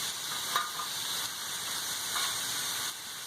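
Vegetables and meat fry in a pan with a loud, steady hissing sizzle throughout, plus a few faint stirring scrapes, with no talk over it.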